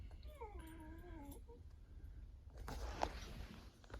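A small dog gives a series of high, wavering whimpers and whines close by, fading after a second or so, followed by faint rustling and a soft thump.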